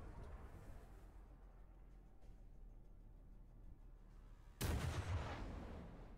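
A single loud, sudden gunshot blast bursts out near the end of a quiet, low rumbling stretch in the Warhammer 40000 Battlesector tabletop-style strategy game, then decays into a lingering rumble.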